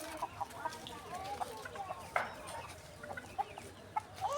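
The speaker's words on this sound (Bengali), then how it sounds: "দেখেন আমাদের বাসায় কত বড় একটা মুরগি," A large hen clucks around a house, with short, separate clucks scattered at an uneven pace, fairly close and moderately loud over a soft, noisy background.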